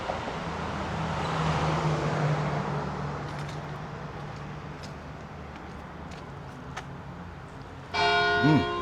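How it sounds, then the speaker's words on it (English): A large church bell near a historic Italianate home in Wilmington, North Carolina, strikes once loudly near the end, ringing out over a background of passing street traffic. "That's a big bell in there."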